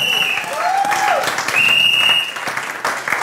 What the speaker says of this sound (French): Can we clap our hand for the Lord?